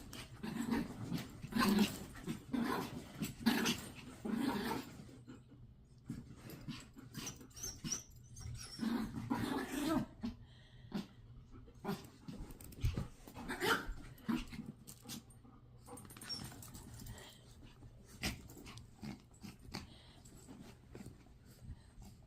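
A collie and a Chihuahua meeting and playing, with scuffling, soft growls and yips scattered across the stretch, fairly quiet and close, no talk.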